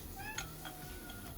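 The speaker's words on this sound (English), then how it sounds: "the cat says that he likes it really sweet" A house cat gives a short, faint meow once, close by, in a kitchen where peaches are being canned, under a steady background hiss.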